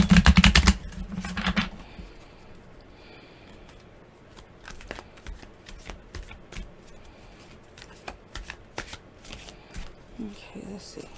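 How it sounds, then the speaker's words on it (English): Tarot cards being shuffled in a loud burst of riffling at the start, then quieter intermittent card handling and slides, with scattered soft taps and shuffles for the rest of the stretch. "I'm just going to shuffle this, and shuffle this on screen"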